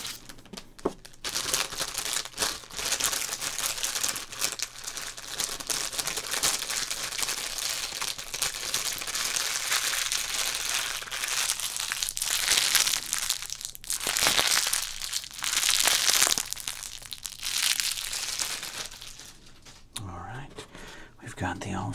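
Stack of glossy baseball cards handled and shuffled up close, a steady dense rustle and crinkle of card stock running almost continuously with a few sharper flicks, soft whispering underneath.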